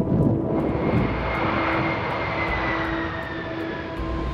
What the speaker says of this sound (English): These short takeoff distances are possible due to the four powerful turbofan engines mounted under the wings.